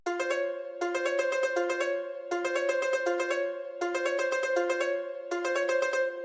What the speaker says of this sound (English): So I went to the shamisen harp and expand and laid down this pattern.